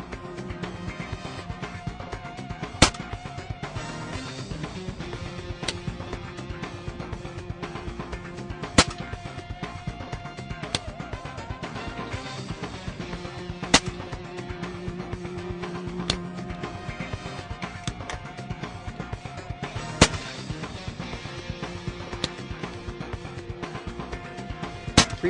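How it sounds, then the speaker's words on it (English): A BSA Lone Star .25 pre-charged air rifle fires Beeman Kodiak Match 31-grain pellets: about five sharp, separate cracks spaced several seconds apart over a steady tonal background. "test the gun for its maximum foot-pounds of energy with the Beeman Kodiak match 31"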